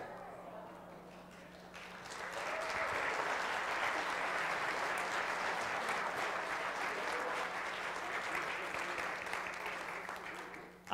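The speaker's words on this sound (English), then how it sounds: "I am so glad you're clapping right there" A church congregation at Crosspoint Church breaks into steady, dense clapping after a countdown, swelling in at about two seconds and holding loud and sustained to the end, with a low hum underneath.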